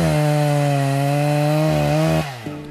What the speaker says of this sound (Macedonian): бидејќи најчест е звукот на пилата.